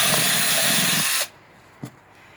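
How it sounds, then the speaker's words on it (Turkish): An electric drill whirs loudly for about a second as it bores a drainage hole through the bottom of a plastic plant pot, then stops, followed by a small knock. "Bunların da altlarını mutlaka delmemiz gerekiyor."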